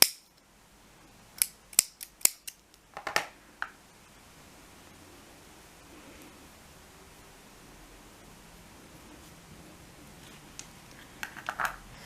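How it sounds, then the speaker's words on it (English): Scissors snip through crochet yarn in a quick burst of several sharp, close cuts near the start, then quiet with faint handling rustles and a few more soft snips at the end. "you can cut the yarn"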